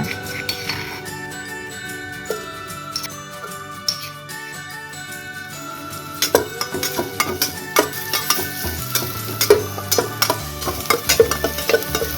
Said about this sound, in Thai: เดี๋ยวเราจะผัด กระเทียมพริกไทยและรากผักชีให้มีกลิ่นหอมนิดนึงค่ะ